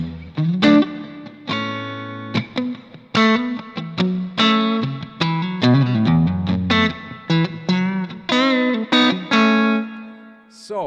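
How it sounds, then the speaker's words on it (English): Electric guitar run through a Fractal FM9 plate reverb plays a quick sequence of plucked notes and chords, each attack followed by a bright, shimmering decay that lingers between phrases, moderately loud and alone without talk. "If I wanted to change the reverb, I go to the type here and I select different one. For example, some plate is really nice."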